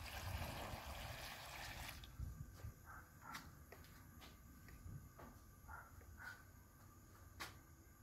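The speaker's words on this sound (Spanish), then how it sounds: "Le voy a agregar más agua" Water trickling into a cooking pot on the stove, a soft steady pour for the first couple of seconds, followed by faint clinks and small handling knocks in a quiet kitchen.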